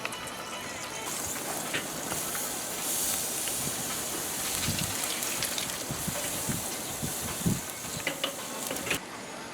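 Lamb chops sear in a hot pan, giving a steady broad sizzling hiss with occasional pops and crackles, close and continuous.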